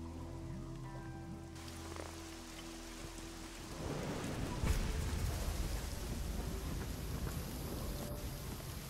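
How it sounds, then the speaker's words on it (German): Rain pours down in the video game Risen, a heavy, steady hiss of falling water that grows denser partway through, with a low rumble underneath and no speech. "Oh, es regnet wieder."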